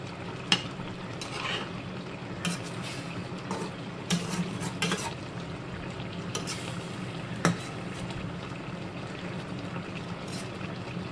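A rohu fish curry with potatoes and spices simmers in a pan while a utensil stirs it, steady low bubbling broken by a few sharp scrapes and clinks against the pan, close and fairly quiet with no talk.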